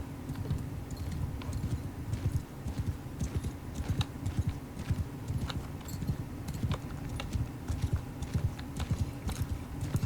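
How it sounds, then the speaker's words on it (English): Massed cavalry charge in Mount and Blade: Bannerlord, two hundred horse archers against two hundred melee cavalry, a dense continuous drumming of hoofbeats with scattered sharp clicks throughout. "we're going to do 200 horse archers versus 200 melee cav"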